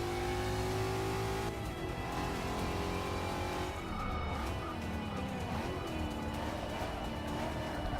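Race car engine noise in Forza Motorsport 6: a Mustang roars continuously and loud, its pitch climbing and dropping through gear changes as it accelerates out of the pits, with engines of other cars and faint tire noise.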